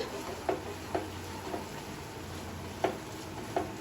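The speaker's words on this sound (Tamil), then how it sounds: "வினிகர் ஊற்றி ஸ்டவ் நல்லா கிளறி விட்டுக்குங்க" Chicken pickle with vinegar stirred in a hot pan: a soft, steady sizzle with a handful of spaced spoon taps against the vessel.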